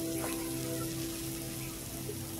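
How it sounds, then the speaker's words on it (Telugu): Vegetables fry in a covered pan, giving a soft, steady sizzle and crackle that stays even and fairly quiet throughout. "తర్వాత మూత పెట్టేసి ఒక 2 నిమిషాలు ఫ్రై చేసుకోవాలండి"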